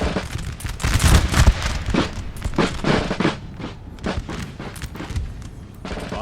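Napoleonic musket volleys crack out in a video game battle: repeated loud, ragged bursts of gunfire overlap one another, with no voices.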